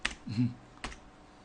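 Computer keyboard keys pressed as a shortcut on an Ubuntu desktop, giving a few quick, soft clicks in a quiet room with no talk.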